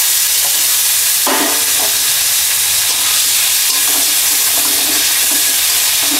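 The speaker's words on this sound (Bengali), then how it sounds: "মাছের তেলে রান্না করে নেবো। প্রথমে টমেটো দিয়ে দিচ্ছি" Tomatoes frying in fish oil in a pan: loud, dense, continuous sizzle heard up close, with occasional stirring scrapes and no talking.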